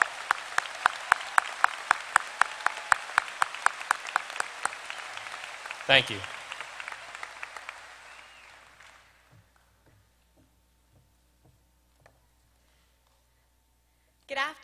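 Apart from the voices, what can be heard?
applause for scholarship recipients at a graduation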